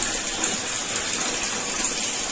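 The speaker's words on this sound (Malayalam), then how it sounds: "ഈ ആവശ്യത്തിന് വെള്ളം ഒഴിച്ച് നമുക്ക് വേവിച്ചെടുക്കാം" Water is poured into a pan of chicken curry for Kerala-style puzhukku, a steady gushing splash throughout, close and moderately loud with no talking.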